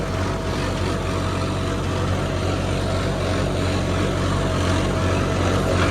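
Tractor engine droning continuously in a farm field, a loud, steady low rumble with a broad hiss over it and no pauses.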